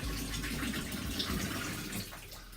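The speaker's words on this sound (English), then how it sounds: "I'm gonna just pour both bottles of dye in here and hope for the best." Bottles of dye poured into a tub of water for dyeing a shag rug, a continuous close splashing gush of liquid, no voices.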